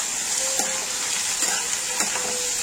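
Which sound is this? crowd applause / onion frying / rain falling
onion frying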